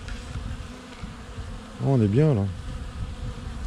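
Honeybees buzz steadily around beehives close to the sea, a continuous low hum with a brief spoken voice rising over it partway through.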